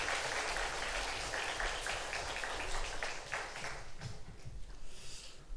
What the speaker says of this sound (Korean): 여러분 다시 한번 뜨겁게 한번 박수 한번